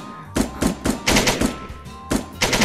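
The Komodo gun from a Minecraft addon fires in quick bursts, loud, close, punchy shots in uneven volleys with brief gaps between them.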